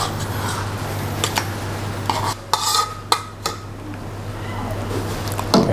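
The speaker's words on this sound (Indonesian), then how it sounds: "Ini kita aduk terus ya sampai benar-benar larut si kejunya ya." A utensil stirs grated cheese through sauce in a pan until it melts, giving soft scraping and squishing with a few sharp metallic clinks against a steady low hum.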